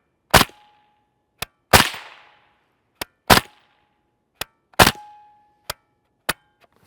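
Suppressed 5.7x28mm Fiocchi 62gr FMJ supersonic rounds are fired from a longer barrel fitted with a suppressor: four loud, sharp reports, each followed about a second later by a shorter snapping crack, in a steady rhythm.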